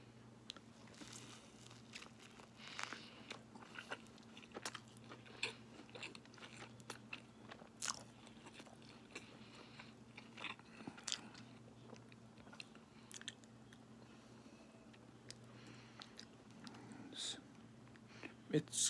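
Someone eats a Wolfgang Puck sandwich up close, quiet crunchy bites and steady chewing repeating through the clip with small crinkles of wrapping.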